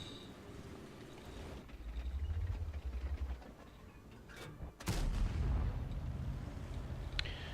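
An M4 Rev tank fires its main gun in a video game on a mountain pass map, two heavy booming shots with rumbling engine noise between them, fairly loud against a low background.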